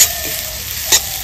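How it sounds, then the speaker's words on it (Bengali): Chopped onion sizzling steadily in a pan of oil while being stirred, with a few sharp scraping strokes standing out over the constant close, bright fizz; onion is being fried for a katla fish dish. "পেঁয়াজটা একটু নেড়ে চেড়ে নেব।"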